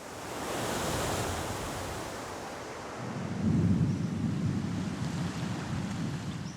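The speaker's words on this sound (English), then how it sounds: "As yet another storm hits the island" A storm on a remote Pacific island: constant roaring surf and wind, with a deep rumble of thunder swelling in partway through. Loud and close, with no voices.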